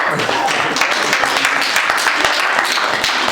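Audience clapping at a talk about Arizona prohibition politics, a dense, steady burst of many hands that holds for the whole few seconds, fairly loud and close, with no speech over it.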